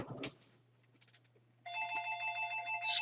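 A telephone rings with a bright electronic trill that starts abruptly partway in and keeps going, fairly close, after a brief cut-off sound and a quiet hum.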